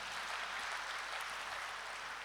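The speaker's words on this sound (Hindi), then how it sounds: "सारे मधुबन वासियों के लिए खूब तालियां बजाओ" An audience at a spiritual gathering claps together in a dense, even wash of applause, fairly faint and continuous for a couple of seconds.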